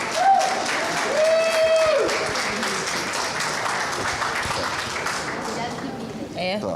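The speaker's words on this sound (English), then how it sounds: "Give Oskar a big round of applause." Audience applause at a Cannes Lions sustainability event, a dense, steady wash of clapping that carries on for several seconds with crowd noise and a voice over it.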